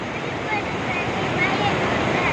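Water flowing steadily at Mayanur dam, a broad, continuous rushing wash heard close and fairly loud throughout, with faint voices in the background.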